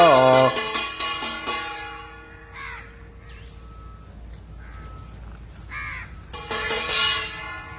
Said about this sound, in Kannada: ಕಾಗೆಗಳನ್ನು ಊಟಕ್ಕೆ ಕರೆಯುವುದನ್ನು ನೋಡುವುದೇ ಒಂದು ಚಂದ